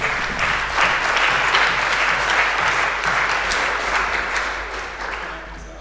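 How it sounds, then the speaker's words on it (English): Applause from a workshop audience at a satellite engineering event, a dense steady patter of many hands that holds loud for several seconds and then slowly tapers off, with no voices over it. "Big round of applause there"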